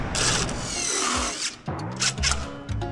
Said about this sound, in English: Put our clamp down on.